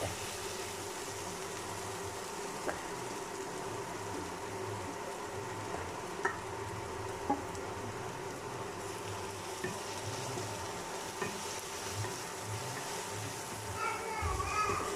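Frying masala in a pan is stirred as coriander powder goes in, a low continuous sizzle with soft scraping and clinks, faint and steady, with children's voices and talk in the background.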